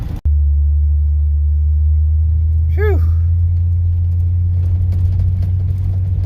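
A 1956 Chevrolet Bel Air with a V8 and PowerGlide transmission drives along, its steady low engine rumble filling the cabin throughout, with a brief exhale from a driver early on.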